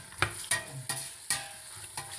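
Beans frying with meat in a pan, a soft steady sizzle broken by regular scraping clacks of a spoon stirring, close and fairly quiet.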